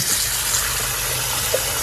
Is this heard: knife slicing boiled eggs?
no